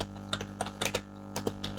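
Light, quick keystrokes tap on a computer keyboard, about a dozen soft clicks in an uneven rhythm, close and fairly faint with no talking.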